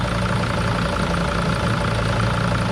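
A 2005 Mercedes Sprinter van engine idles steadily and evenly after its misfire was fixed, a close, constant low hum with no stumbles or breaks and no voices.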